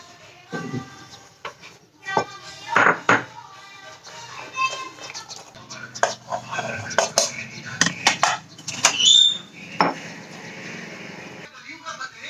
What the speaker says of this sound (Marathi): आता ह्यातलं लसूण आणि हे थोडंसं ठेचून घेते.